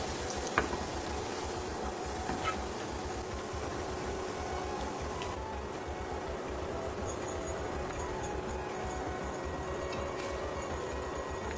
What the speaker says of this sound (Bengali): রসুনগুলোকে নেড়ে নেড়ে ভেজে তেল থেকে উঠে নেওয়া হবে বাদামের সাথে